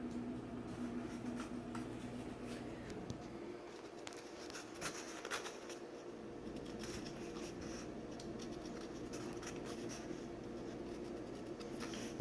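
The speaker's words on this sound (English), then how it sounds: "you're going to mark it, and mark it, and mark it, and mark it" A pencil marks paper again and again for a paper checkerboard, faint repeated scratching strokes close by in a quiet room.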